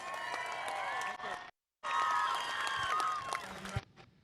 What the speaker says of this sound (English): Let's hear it again for Kent Farrington